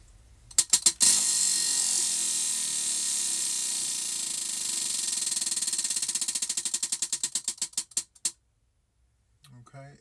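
A prize wheel spins with rapid clicking that starts fast and steady, then slows into spaced-out ticks before it stops. The clicking is loud and close, with a brief faint sound at the end.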